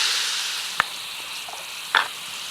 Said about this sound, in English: right into the hot fat of the bacon, you will add your onions